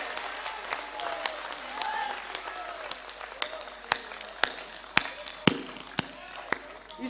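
Audience applause at a Hindi comic poetry gathering (hasya kavi sammelan), a sustained wash of many hands clapping with sharp louder claps standing out at irregular moments throughout.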